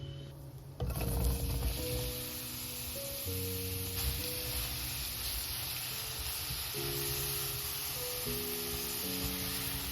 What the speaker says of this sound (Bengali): এই তেলের মধ্যেই আমি মাশরুমগুলোকে ভেজে নেব